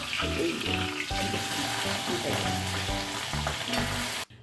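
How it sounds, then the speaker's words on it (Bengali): Pabda fish frying in hot mustard oil in a wok, a steady loud sizzle and crackle that continues unbroken with faint stirring clinks, then cuts off abruptly at the end. "কড়াইতে সর্ষে তেল দিয়ে তেলটা গরম হয়েছে তখন আমি পাবদা মাছগুলো দিয়েছি হালকা ভাজবো"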